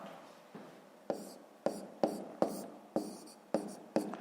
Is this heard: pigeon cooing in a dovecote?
no